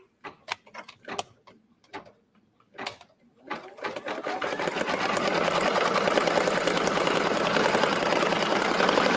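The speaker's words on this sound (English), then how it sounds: "We're going to start the embroidery." A sewing and embroidery machine stitches a Valentine's love banner design. A few scattered clicks and taps come first, then the motor starts a steady, fast mechanical rattle that continues evenly to the end, close and loud.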